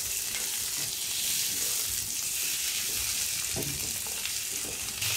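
Mixed vegetables sizzle and crackle in a hot pan as tofu is cooked with chili, a steady close hiss with occasional stirring scrapes and no talking.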